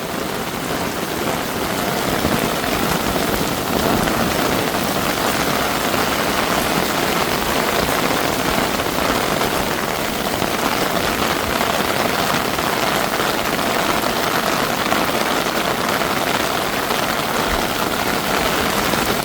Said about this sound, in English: You know it's raining, and when it rains I have to go.